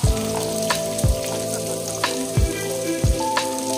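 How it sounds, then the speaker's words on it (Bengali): Boiled chickpeas going into a hot pan with chopped green chillies for a fasting-day potato dish, a crackling sizzle punctuated by several heavy thuds and clanks of utensil against pan. "এবার এটা একটু হবে, দিয়ে দেবো সেদ্ধ ছোলা"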